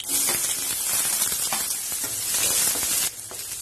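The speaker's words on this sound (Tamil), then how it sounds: "இந்த வெங்காயம் பூண்டெல்லாம் நல்லா வதங்கட்டும்" Steady loud sizzling of onion and garlic frying in a hot pan, close up, with occasional stirring scrapes and a brief dip near the end.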